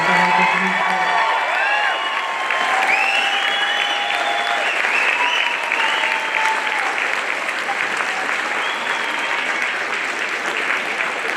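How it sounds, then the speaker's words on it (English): Loud, sustained applause with cheering from a large crowd at a 2024 commencement ceremony for graduates, a dense steady roar of clapping with whoops and shouts on top throughout. "Let's have a big round of applause for our graduates of 2024."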